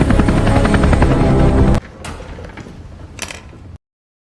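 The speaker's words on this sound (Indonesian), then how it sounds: "mereka pun pergi dengan helikopter." A loud helicopter whirs with rapid rotor chopping, then cuts to quieter rumbling with a couple of brief clanks.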